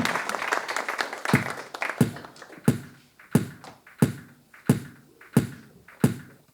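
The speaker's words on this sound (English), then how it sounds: "I got the end of the applause." A theatre audience's applause thins out at a musical theatre show, leaving a few separate, evenly spaced claps from one person that echo in the room before the hall falls quiet.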